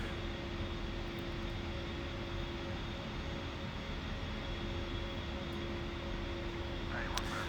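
A steady, even aircraft engine drone from the DCS flight simulator game runs throughout, a constant hum with a faint tonal whine and a brief click near the end.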